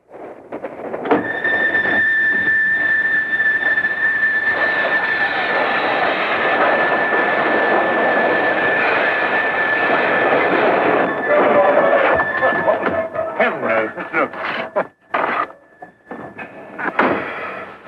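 A loud, steady rumble of a moving train with a persistent high squealing whine, turning choppy and uneven near the end.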